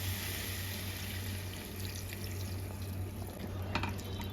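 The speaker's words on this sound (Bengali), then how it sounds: "এবার আমি জল দিয়ে দিলাম" Water pours steadily into a pan of soybean and potato curry, roughly one and a half cups, making a continuous close splashing wash over a low hum, with no voices.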